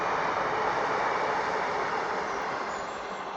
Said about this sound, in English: The train's just going to rush by.